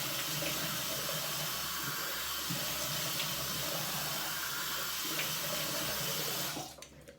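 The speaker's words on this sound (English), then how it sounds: "I'm going to go ahead and splash some water on my face" Water runs and splashes onto a face steadily at close range for several seconds, then cuts off abruptly near the end.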